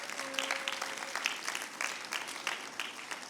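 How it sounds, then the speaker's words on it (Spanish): A church congregation claps together during a service, a steady, fairly soft patter of many hands that continues throughout. "Dele palmas fuerte al Señor"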